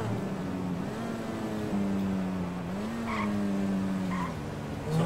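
Lamborghini Aventador sliding in the racing game GTA V, a sustained tonal tire squeal wavering and bending over steady engine drone, fairly close, with a brief extra screech near the end.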